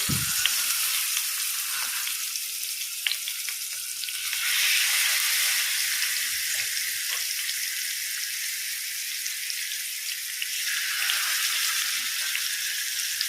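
Hot masala-seasoned oil for frying fish bubbles and sizzles in a pan, a close, continuous bright hiss that swells and eases slightly without any talking.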